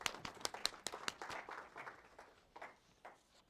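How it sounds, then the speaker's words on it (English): A live audience claps in a round of applause, dense rapid hand claps that start crisp and loud and then thin out and fade over a few seconds, heard from a little distance. "Round of applause for Tanner, the evil client"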